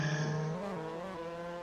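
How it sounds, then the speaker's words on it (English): A Mazda MX5 race car engine in a sim racing game revs in neutral during a deep lunge into a turn at Castle Combe, a brief tonal whine that shifts pitch, fairly faint and alone. "we hear the little bit of engine rev in neutral, I believe"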